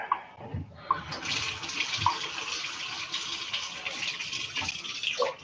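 Cold water runs from a tap into a container after a few knocks and handling sounds, becoming a steady loud close-up rush that continues to the end.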